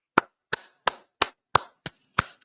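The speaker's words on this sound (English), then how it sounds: "All right, everybody, clap it up." A small audience clapping in a sparse, slow rhythm: seven sharp, evenly spaced claps ringing out clearly with no talk over them.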